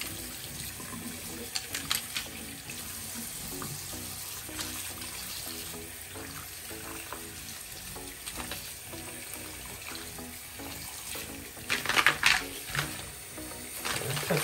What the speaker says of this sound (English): Fill the sink with water.